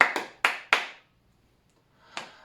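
Sharp hand claps in a quick rhythm, four close together and then a single clap after a pause of about a second, each crisp and near with a short decay and no talk.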